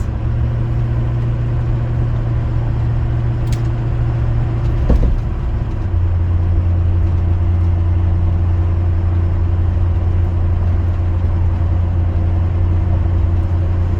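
A 2006 Ford F250 pickup with aggressive tires and no bed drones steadily while driving, a loud, even engine and road hum heard from inside the cab with one brief click midway.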